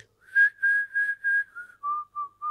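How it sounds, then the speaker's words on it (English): A Peruvian shaman whistles a wavering melody during an ayahuasca ceremony, a run of about eight clear, sustained notes that step gradually downward in pitch, close and alone with no talk. "they just whistle to you all the time and you get deep in the journey"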